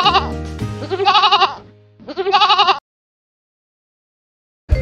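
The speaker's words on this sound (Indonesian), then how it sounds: "Kambing." A goat bleats in a series of loud, wavering cries, several calls in quick succession with a short pause, then silence before another cry begins at the very end.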